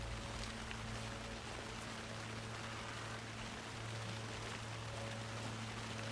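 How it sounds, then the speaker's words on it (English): Steady rainfall in a video game hisses quietly and evenly throughout, with no gusts or breaks, over a low, constant background hum. "this rain noise is really accurate sounding"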